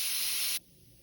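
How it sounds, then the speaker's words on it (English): An air compressor feeds air into a well-water expansion tank: a loud, steady hiss of rushing air that cuts off abruptly after about half a second, leaving a low background hum. "we've got our air compressor right here, and we just add air till we get to 38 pounds"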